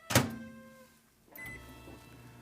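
A microwave oven melting shortening gives a sharp electronic beep and a clunk, then a low steady hum as it runs, fairly faint and with no voices.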